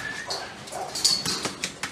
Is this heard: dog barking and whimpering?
yes